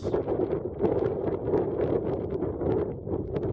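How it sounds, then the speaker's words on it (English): Strong gusting wind of over 20 mph buffets the microphone high on Mt Meeker, Colorado, at 11,000–12,000 feet: a loud continuous roar with rhythmic surges and no other sounds. "it's 20 some miles an hour. Almost knocked me down a couple times. Really windy."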